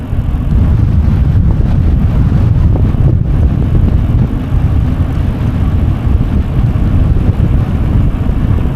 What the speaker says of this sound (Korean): 맞바람이 엄청 불어 속도 내기가 무섭습니다